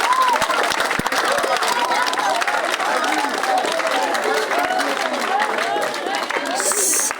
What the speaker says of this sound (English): let's clap for Mr. Mayor